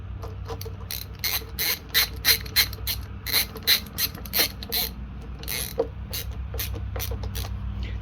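The choke lever on a John Deere 2BV blower carburetor is worked back and forth, giving a run of close, crisp clicking and ratcheting bursts in an irregular rhythm over a low background hum.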